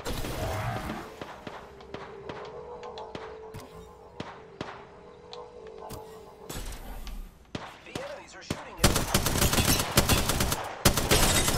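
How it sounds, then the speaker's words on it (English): Enemy gunfire in Apex Legends, with bursts of rapid shots and scattered cracks in a firefight, building to loud, dense, sustained fire near the end. "I am taking fire, friend. Getting shot at."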